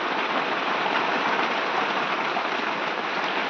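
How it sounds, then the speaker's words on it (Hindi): Heavy rain pours outside in a dense, steady roar that fills the air without a break, loud and close, with no voices over it. "देख सकते हैं गाइस बाहर लग गई है बारिश बड़ी तकड़ी"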